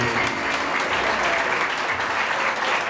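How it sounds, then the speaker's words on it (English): Wedding guests applaud in a thick, continuous round of clapping, loud and even from start to finish, with some crowd murmur mixed in. "Let's give them a big round of applause"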